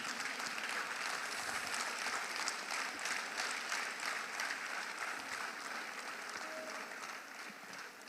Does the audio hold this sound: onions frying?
no